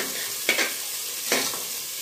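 Chickpeas fry with turmeric in a pan under a soft, constant sizzle, with two short scraping strokes of a spoon stirring them about a second apart.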